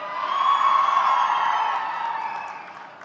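A large crowd at an open-air political rally in Shirdi cheers and whoops, rising to a loud, sustained roar of shouting voices that slowly fades out, with no clear speech above it.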